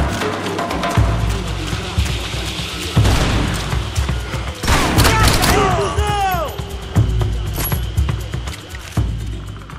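Automatic AK-47 fire in the Max Payne 3 video game: loud, close bursts of rapid shots with heavy booming impacts and crashing debris, broken by short pauses across the stretch.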